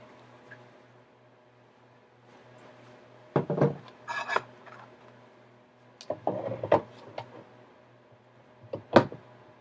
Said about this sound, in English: Now I'm going to replace the 60 grit scratches with 80 grit scratches.